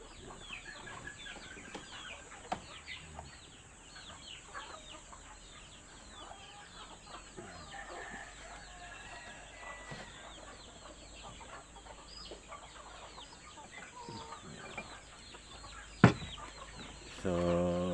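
Broiler chickens clucking and rustling in a busy farmyard in hot weather, steady low-level fowl chatter throughout with a few sharper clucks and a brief flap near the end.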